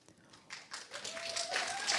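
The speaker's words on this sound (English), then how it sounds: "Yes, that's a round of applause." An audience at a summit breaks into a round of applause, clapping building from scattered hands to a fuller, steady patter over two seconds, with a voice faintly present.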